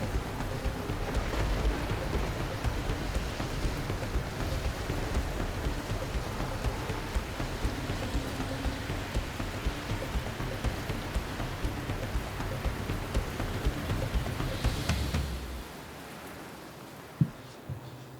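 Steady heavy rain pouring for a drama production, a dense loud hiss that runs unbroken before cutting out abruptly into near quiet, followed by one sharp knock.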